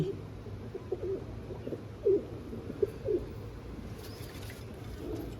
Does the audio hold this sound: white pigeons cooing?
yes